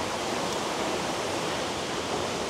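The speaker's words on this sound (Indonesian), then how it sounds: "Di atas itu air terjunnya ya." The Yeh Ho waterfall at Jatiluwih, with very cold water, gives a dense, unbroken roar of falling water that stays loud and steady throughout with no voices.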